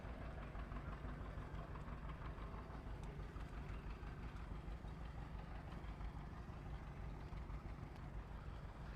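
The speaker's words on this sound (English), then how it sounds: "Classic tractors making their way through" Classic John Deere tractors roll past in a small-town Odd Fellows parade, giving a steady, low, faint engine rumble with an idling chug that holds evenly throughout, with no talking.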